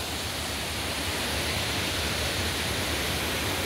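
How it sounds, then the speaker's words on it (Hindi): Baltir waterfall in full monsoon flow, a steady, dense roar of rushing water that stays loud and unbroken throughout, with no voices over it. "पास में झरना बलतीर का"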